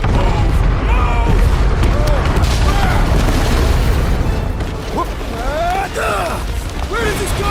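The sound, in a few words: explosion of set charges in Guardians of the Galaxy video game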